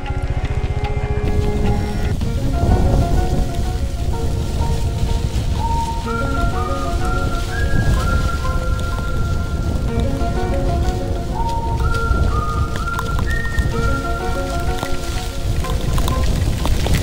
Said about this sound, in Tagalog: Yan, inulan na tayo.